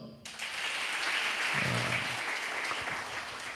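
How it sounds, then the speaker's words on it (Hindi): Audience at a Bible teaching session clapping together on cue, a burst of dense applause that swells quickly and continues steadily, with a brief voice audible early on. "ऐसे बजाते हैं ताली, जरा एक बार बजाओ।"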